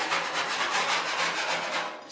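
Steady, close scraping and rasping as tar is scraped from inside a Ford XY Falcon's wheel well, a rough abrasive rubbing repeated in quick even strokes with no voices.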